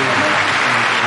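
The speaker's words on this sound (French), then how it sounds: "Vous pouvez applaudir votre Seigneur." A church congregation at a healing service in Bergerac claps together, a loud dense burst of hands close by, continuous for about a second.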